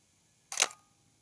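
A Minolta X700 film camera shutter fires at 1/1000 second: one crisp, close mechanical clack with a short tail, alone in near silence.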